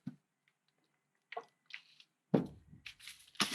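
Water worked into a batch of wet, tinted concrete for a marbled cactus planter, giving a few short, close squelching and sloshing bursts separated by quiet gaps, growing louder toward the end.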